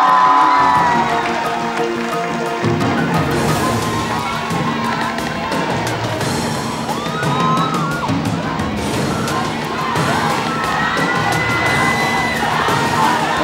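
A studio audience at a televised Top 8 talent show applauds and cheers loudly, a dense continuous roar of clapping, shouts and whoops throughout.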